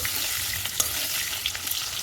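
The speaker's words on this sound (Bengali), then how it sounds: "এই আলু তো ভাজা হচ্ছে দেখছো, কাঠে উনানে রান্না করে নিই" Potatoes fry in a wok over a wood-fired clay stove, giving a dense, steady hiss of sizzling oil with faint crackles, close and continuous.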